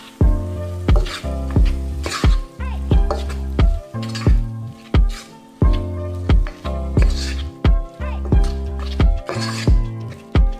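Chana masala sizzling in a pan for chana pulav while being mixed: loud bursts of frying and scraping in an uneven rhythm, each stir followed by a hissing sizzle with metallic clinks, close up.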